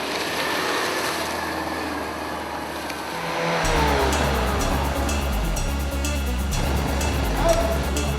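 A car driven hard during a Don 2 action sequence shoot: steady engine roar with broadband road and wind noise, swelling louder partway through as the engine revs up, with no voices.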